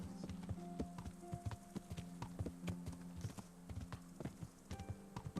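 Horse hooves clip-clopping in the video game Kingdom Come: Deliverance, a quick regular rhythm of hoof strikes over a faint low hum, quiet and steady, with no speech.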